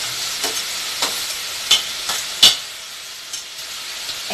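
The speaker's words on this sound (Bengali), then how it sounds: "গরম হয়ে যাওয়ার পর আমরা এটার মধ্যে পেঁয়াজটা দিয়ে দেব।" Onion fries in hot oil, a steady close sizzle punctuated by several sharp scraping stirs of a spatula in the pan, each a brief louder burst; no voices present.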